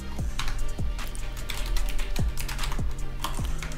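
Keys clack on a computer keyboard as code is typed, in short irregular bursts of close, crisp strokes with a few brief pauses between them.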